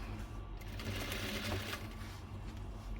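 Sewing machine stitching lace trim onto a bedsheet, a steady, continuous mechanical whirr with fast, even needle clatter running throughout at close range.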